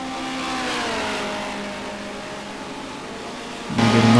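Historic race cars, including a Mustang and a Porsche, race on a circuit; a loud engine drones steadily with shifting harmonic pitch, then another car's engine surges in louder and lower toward the end.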